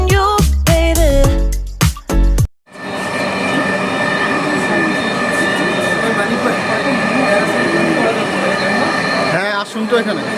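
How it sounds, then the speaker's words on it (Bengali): A metro train in Bangladesh runs steadily after a burst of music cuts off, its loud continuous rumble and hiss filling the carriage for several seconds. "মেট্রো এখানে।"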